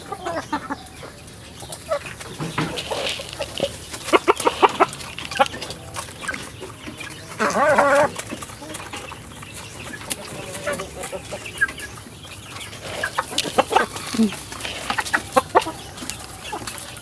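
Chickens cluck in scattered bursts during feeding, some close and loud, with a few sharper squawks and faint background noise between calls.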